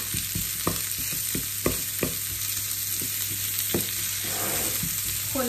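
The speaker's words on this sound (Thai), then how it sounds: "ไม่ยากเลยนะแค่ผัดๆให้เขาสีเหลืองสวยนะค" Food stir-fried in a hot pan until golden as part of a simple German home-cooked dish, with a steady sizzle and repeated sharp scrapes and taps of a utensil against the pan, no voices.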